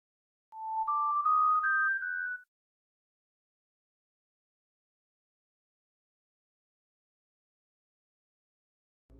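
A phone ringtone plays a short rising series of clear electronic tones for about two seconds, then silence follows.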